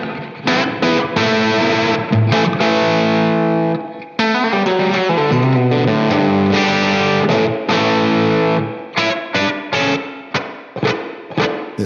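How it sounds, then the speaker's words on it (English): Electric guitar played through a Wampler Catacombs pedal set to spring reverb rings out in sustained, twangy chords and single notes, loud and alone, with short breaks between phrases near the end. "got that that sound to it that you associate with the sound of the springs"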